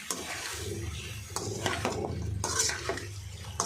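Chicken being stirred in a frying pan, the spoon scraping and clinking against the metal in repeated close strokes over a faint sizzle.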